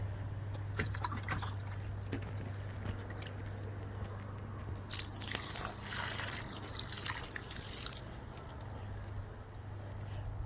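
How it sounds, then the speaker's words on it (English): Water dripping below an outdoor red wiggler worm bin, heard as faint scattered drips and soft wet ticks over a steady low hum, with a brief louder rustle midway. "I can hear the water dripping below"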